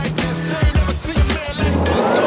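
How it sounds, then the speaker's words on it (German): A car driving up on a road in Nigeria, with rough low engine rumble, bumps and tire noise close by over a couple of seconds. "Da ist schon das Auto von den beiden."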